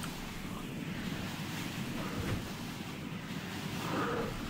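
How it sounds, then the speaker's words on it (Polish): A wind blast spell cast in the video game Gothic, heard as a steady broad whooshing rush of air that swells slightly around the middle and end, loud and continuous with no talk over it. "Spróbujmy uderzenie wiatru"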